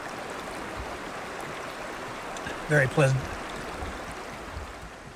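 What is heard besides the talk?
river flowing by a campsite in Namadgi National Park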